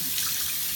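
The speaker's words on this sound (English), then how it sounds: "And I'm just rinsing my face." Water runs steadily from a sink tap while a face is rinsed, a close, constant splashing rush with no pauses.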